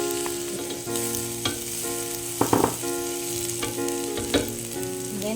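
Garlic sizzles steadily in hot oil in a wok-style pan, a close, continuous frying hiss with occasional sharp crackles and stirring clinks, no talking.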